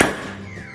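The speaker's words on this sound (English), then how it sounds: "we'll center punch that" Single sharp metallic strike of a center punch hammered into an old stud on a 1950 Morris LC3 engine, close and loud with a short ringing decay.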